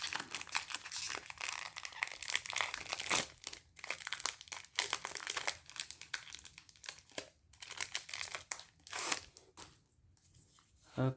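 Duel Masters DM-04 trading card booster pack wrapper being torn open by hand, giving a run of close, crisp crinkling and tearing bursts with short pauses, alone with no talk.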